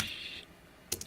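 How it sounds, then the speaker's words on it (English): Quick typing on a computer keyboard, a short burst of soft clicks then a couple of taps, faint and close, no talk. "I'll talk about it while I'm typing"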